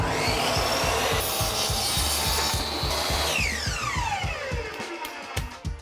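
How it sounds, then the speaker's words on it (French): A plexiglass sheet being sawn down to size by hand: steady, rapid back-and-forth rasping strokes, loud and close, continuing throughout before slowing and stopping at the end. "Alors pour l'instant elle est beaucoup trop grande, donc on va devoir la recouper."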